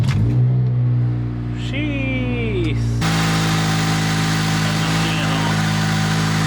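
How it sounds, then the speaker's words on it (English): An Acura RSX Type S, just after an oil change, starts up and revs, then settles into a steady, loud idle close by. A voice briefly exclaims near the start. "So now let's just start it up and see if everything is good."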